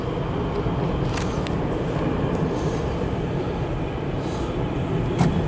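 A metro train passes near a CSX rail line, a steady broad rumble and rail roar holding through the whole stretch with a few faint metallic squeals and clacks on top.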